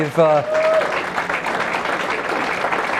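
Crowd applause rolls steadily through a downtown Allentown kickoff speech audience, dense and sustained after a brief spoken phrase at the start.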